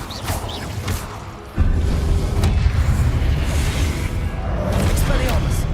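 A fire spell cast in the video game Hogwarts Legacy, a sudden booming burst around the middle that holds as a loud, dense rumble under a busy battle mix of whooshes and impacts.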